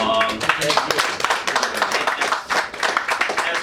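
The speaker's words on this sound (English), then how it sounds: "Give yourselves a round of applause" Festival audience clapping after a filmmakers' Q&A session in New York, dense and steady for a few seconds with scattered individual claps, heard close with a voice faintly mixed in.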